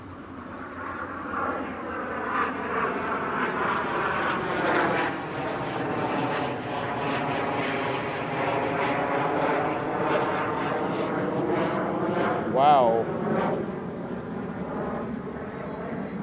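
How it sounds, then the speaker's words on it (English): Propeller airplanes fly overhead on an afternoon street in Tainan, Taiwan, a steady droning hum that swells and holds for the whole stretch, with a brief spoken exclamation near the start and street noise underneath. "I don't know if these are the two same planes that are been flying overhead"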